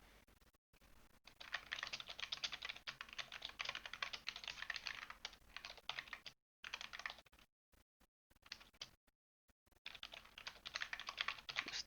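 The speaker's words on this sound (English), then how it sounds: "Just typing to James" Fast typing on a computer keyboard, close and fairly quiet, with rapid clattering keystrokes in bursts broken by short pauses, during a Wolcen: Lords of Mayhem game stream.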